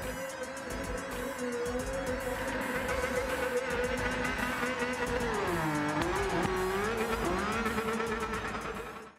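A RUF RGT 4.2 drifts in Gran Turismo 7, its engine note wavering and sweeping up and down in pitch as the car slides, with a buzzing high-revving tone and rapid rhythmic ticks, steady and close, no talk.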